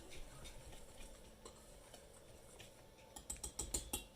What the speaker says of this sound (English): I'll whisk that together